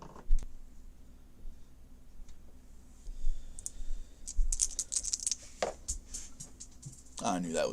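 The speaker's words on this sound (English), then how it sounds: "First time fumbling the dice." Plastic dice rattle and clatter on a tabletop during a racing board game, a loose burst of clicks and taps near the end after quieter handling sounds, with talk nearby.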